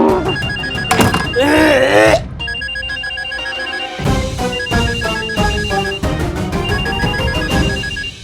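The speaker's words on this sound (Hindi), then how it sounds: "अरे फोन ही नहीं उठा रही है वो।" A police station telephone rings repeatedly and unanswered, steady bursts of electronic trilling layered with background music, with a short sweeping tone near the start.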